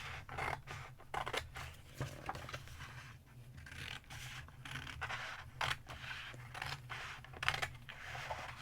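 Scissors snipping out a felt craft piece, a steady run of crisp close cuts and scraping strokes with a low hum underneath and no talking.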